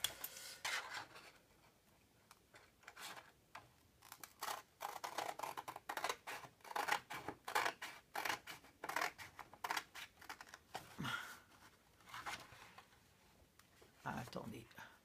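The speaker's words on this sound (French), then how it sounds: "Là, je coupe ici." Scissors cut scrapbook paper in a run of quick, crisp snips and rustles, close up and fairly faint, with a voice speaking quietly in places.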